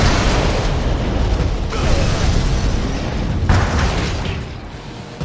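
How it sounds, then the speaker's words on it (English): Bombing-run explosions in Command & Conquer 3: Tiberium Wars roll on as one loud, dense, continuous rumble of blasts and booms with little break, and a fresh burst at the very end. "Bombing run initiated."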